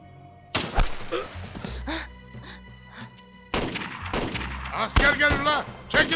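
Missiles and artillery fire at a target in a battle scene, heard as heavy booming blasts and impacts, a sharp burst early on and a second dense barrage midway, with some voices mixed in.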